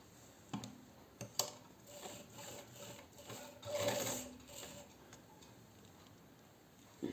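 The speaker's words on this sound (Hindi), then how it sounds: "अब मैं इसको यहाँ से सिलाई लगा दूँगी" A sewing machine stitches a round stool cover, its faint, quiet mechanical ticking coming in short uneven runs, with a slightly louder burst midway.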